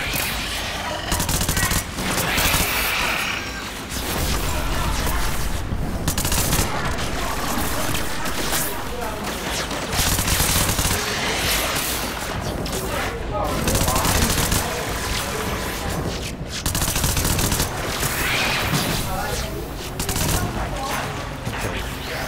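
Rapid automatic gunfire in the video game Warframe, dense overlapping bursts and volleys running almost continuously throughout, loud and busy, with someone talking over the shooting.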